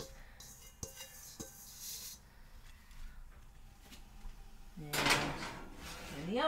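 A baking dish of apple berry crisp is slid into an oven, with a few soft clunks and knocks and then a louder metallic oven door clatter near the end, amid kitchen handling noise.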